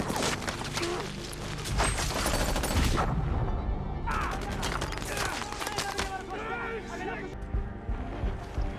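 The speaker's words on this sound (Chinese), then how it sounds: "冷不丁的枪声响起。" Rapid bursts of automatic gunfire and sharp shots crackle loudly for about three seconds in the 2023 war film The Covenant, followed by voices talking over quieter background sound.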